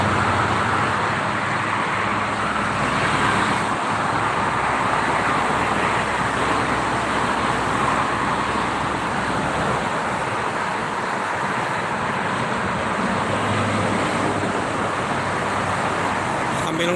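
Steady traffic rumbles along the Jakarta-Cikampek toll road at dusk, buses and cars passing as a continuous dense roar of tyres and engines, with faint talk mixed in.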